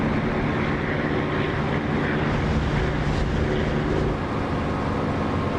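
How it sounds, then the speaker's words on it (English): Propeller aircraft engine roaring with the canopy open in the DCS flight simulator game, a loud, steady, airy drone with a low hum and rushing wind that holds constant throughout. "I do love the sound of this engine with the canopy open"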